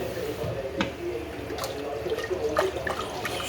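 Cold tap water runs steadily while vegetable pilau rice is rinsed in a colander, a continuous splashing wash with a few brighter drips and clatters throughout.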